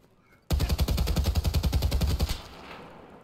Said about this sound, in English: I used 20 rounds of ammo and hit him in the head once